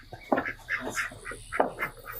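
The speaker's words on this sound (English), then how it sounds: "I hear ducks." A run of nasal duck quacks, about eight calls in an uneven rhythm, moderately distant against faint background noise.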